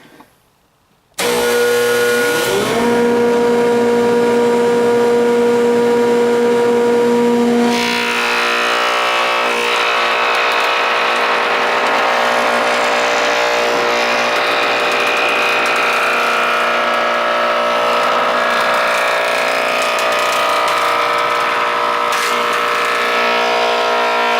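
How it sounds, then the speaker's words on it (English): An early 1900s 12-inch jointer starts with a sudden loud whine and rising hum, then cutter blades bite into wood with a harsh roaring buzz that holds for many seconds, close and alone. "First cut on the new Scary Joiner."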